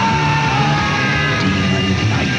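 A loud, sustained scream from a horror movie trailer for Tales from the Crypt presents Demon Knight, dense and strained, filling the whole stretch with layered shrieking voices and no pause.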